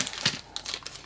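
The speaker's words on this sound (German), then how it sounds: "jetzt mache ich mal die Tüte auf" A plastic bag holding Filly Unicorn toy figures is opened close up, giving a short burst of crinkling and rustling.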